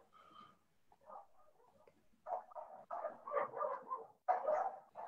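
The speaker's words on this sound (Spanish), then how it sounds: "¿Hay alguien tiene perrito cerca de su casa?" A dog barks from near a participant's home during an online drawing class, a run of quiet, muffled barks and yips in irregular bursts. The barking grows slightly louder toward the end.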